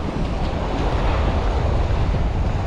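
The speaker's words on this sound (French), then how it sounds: "Je suis face au vent, ça va pas être facile." Strong wind buffeting the microphone with surf washing on a seashore during bass fishing, a loud continuous roar without a break.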